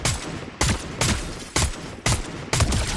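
Six loud, evenly spaced bursts of video game gunfire, each a sharp crack with a brief decaying tail, roughly half a second apart and close-up, with no voices.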